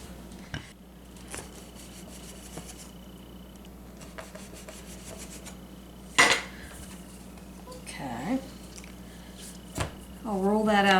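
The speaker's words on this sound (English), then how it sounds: "get a 3-inch round cookie cutter" A 3-inch round cookie cutter cuts rounds from thinly rolled pierogi dough, giving a few scattered, sharp taps and soft scrapes against the work surface over a low, steady background, with brief squeaky rubbing noises near the end.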